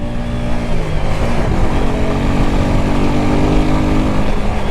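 A motorcycle runs steadily on a highway at night in Jamaica, its engine droning loud and close with broadband wind and road rumble, the pitch holding fairly even for the whole stretch.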